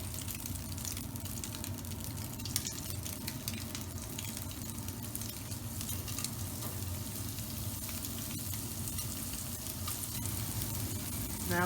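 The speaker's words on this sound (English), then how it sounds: "let it rest there and continue to cook the rest of your meatballs" Swedish meatballs, IKEA style, fry in a pan with a steady, dense sizzle that holds at an even level throughout, with no talking.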